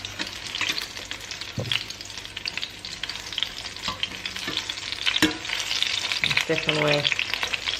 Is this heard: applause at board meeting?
no